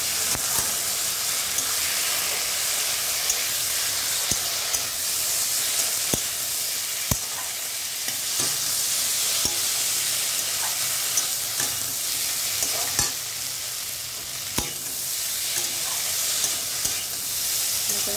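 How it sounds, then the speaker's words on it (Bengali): Spices and vegetables sauté in a pan for a Bengali rui fish curry with potato, tomato and drumstick, a steady loud sizzle running throughout with a few sharp scrape and clink accents from stirring, no voices. "লবণ, আর ভালো করে কষাতে হবে"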